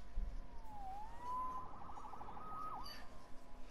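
A police siren wails faintly in the distance in the Marvel's Spider-Man video game, its pitch sweeping down and up over a low ambient city hum.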